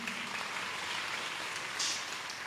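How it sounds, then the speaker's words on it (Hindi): An audience at a satsang applauding, a steady, dense wash of clapping that fills the whole moment without pause, with no talking over it. "तुम लोग बार बार ताली नहीं बजाना फिर उनके लिए"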